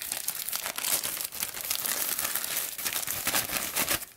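Crinkling and tearing of an Amazon delivery package being opened to get at a pair of small scissors, with steady close-up rustling and crumpling throughout and no talking.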